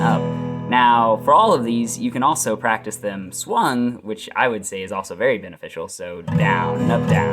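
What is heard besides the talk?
None of the usual background noises is heard.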